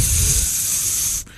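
A voice imitates a steam gust like a train pulling into a station: a loud, close, sustained hiss that cuts off abruptly after about a second.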